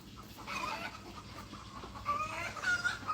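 Young chickens on a small farm cluck softly nearby in a few short, scattered calls against a quiet background.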